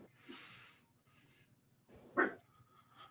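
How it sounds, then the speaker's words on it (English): Small dog barks come from a distance in a quiet room, a few short yips and a whimpery bark spaced out over a few seconds. "I was wondering who's barking."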